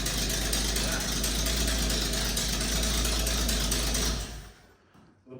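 A car engine with an unwelded exhaust and no muffler runs loud and steady with a raw, rattly drone, then cuts off abruptly near the end.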